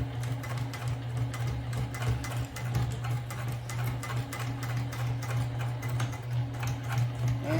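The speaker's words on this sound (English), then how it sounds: "go to the sewing machine. You're gonna start to sew." A sewing machine stitches fabric for a hobo bag with a close, continuous rapid mechanical rattle that holds an even rhythm throughout.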